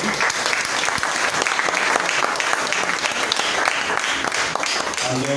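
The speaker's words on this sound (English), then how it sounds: "Can we please raise applause for Dr." An audience at a session breaks into sustained applause, dense clapping that stays loud and even throughout with no speech.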